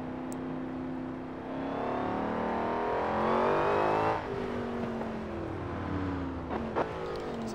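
A car engine in the driving game Forza Horizon 4, revving up and rising in pitch, then dropping as it shifts and settles, a smooth continuous drone with no talking.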